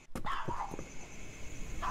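A dog barks in the video game We Are Not Alone at night, a few short, fairly faint barks spread across the moment over a low ambient hum.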